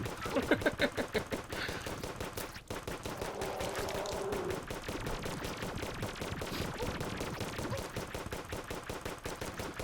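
A Terraria boss fight has a weapon firing steadily at a boss's eye. Rapid, evenly spaced game gunshots repeat throughout at a fast machine-gun rhythm, with a dense hum beneath them.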